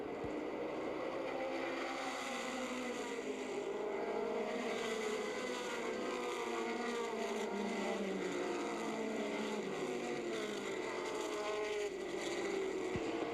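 Several race cars accelerate back to speed on a green-flag restart at the Old Milwaukee 100, a dense, continuous engine roar with shifting pitches as cars pass, loud and steady with no talk.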